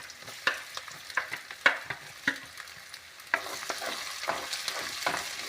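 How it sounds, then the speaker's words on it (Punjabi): Chopped ginger frying in mustard oil and desi ghee in a pan, a steady close sizzle broken by sharp crackling pops and stirring clatter, growing denser and louder in the second half, with no talking. "ਥੋੜਾ ਜਿਹਾ ਸਰੋਂ ਦਾ ਤੇਲ ਪਾਇਆ ਜੇ ਥੋੜਾ ਜਿਹਾ ਦੇਸੀ ਘਿਓ ਪਾਇਆ ਹਾਂਜੀ ਆਪਾਂ ਜੀ ਕੱਟਿਆ ਹੋਇਆ ਅਦਰਕ ਪਾ ਰਹੇ ਹਾਂ"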